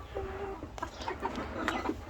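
Hen clucking beside a nest holding many eggs, with a few short clucks and fowl calls close by over steady farmyard background noise.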